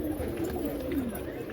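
Pigeons coo in a pigeon house, a low, wavering call repeating close by over a soft background, with no clear talking.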